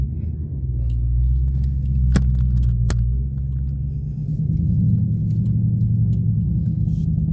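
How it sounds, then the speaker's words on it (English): A Dodge Hellcat SRT idles with a deep, loud rumble at a Gainesville, Florida drag strip, the low burble swelling and easing, with two brief sharp clicks early on. "The homie Hellstorm SRT about to run it."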